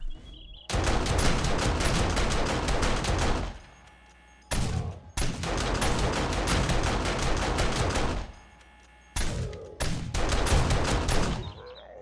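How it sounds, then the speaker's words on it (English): Rapid automatic fire from an SMG turret cutting down zombies in Alpha 20 of a survival video game, loud sustained bursts of several seconds broken by short pauses, with no talking. "Now we've added an SMG turret to the party."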